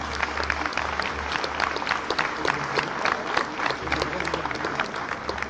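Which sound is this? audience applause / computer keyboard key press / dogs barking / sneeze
audience applause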